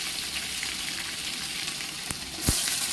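Onions frying in hot oil for a biryani give a steady, dense sizzle all the way through, with a couple of sharp crackles and a brief louder burst near the end.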